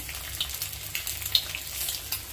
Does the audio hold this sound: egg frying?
yes